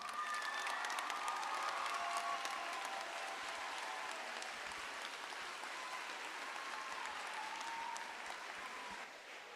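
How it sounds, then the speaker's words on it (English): A large audience applauds steadily after a school production of the musical Newsies, a dense wash of clapping with a few faint cheers that holds for several seconds and then thins slightly at the end. "let's give them another big, huge round of applause"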